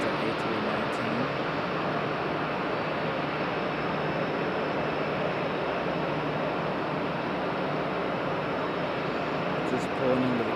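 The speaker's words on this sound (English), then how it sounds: "Got a lot of noise over here behind us. I think it's Delta A319." A Delta Airbus A319 jet airliner at Raleigh Durham International Airport gives off a steady, broad engine roar that holds at an even level throughout, with no voices over it.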